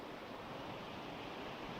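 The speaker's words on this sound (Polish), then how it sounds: "Zmiana pozycji, piękny wodospadzik." Small waterfall pouring over rocks, a dense steady rush of water with no voices, up close and constant throughout.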